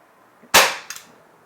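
A single sharp shot from an Umarex Glock 17 Gen5 6mm airsoft pistol, loud and close, followed by a quieter secondary snap as the slide cycles, with no talk.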